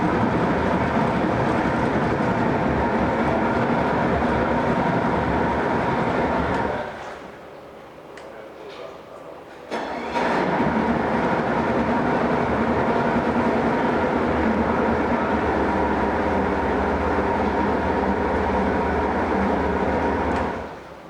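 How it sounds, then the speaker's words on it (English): A 2006 Yamaha 300hp HPDI two-stroke outboard boat motor with a 20-inch shaft runs loud and steady, dipping briefly partway through before surging back to a full, constant roar. "Great running motor."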